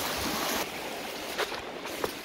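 The lower part of the El Diamante river flows in a steady broadband rush, close and fairly loud, with a few brief splashes and knocks but no voices.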